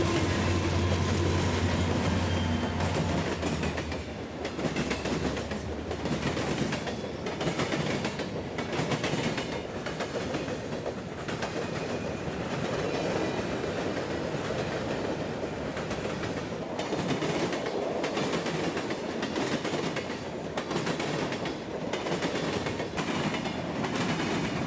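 Freight train Q441 on the mainline at Lakeland, Florida, passes close by, with loud, continuous rolling rumble and rhythmic clickety-clack of wheels over rail joints throughout.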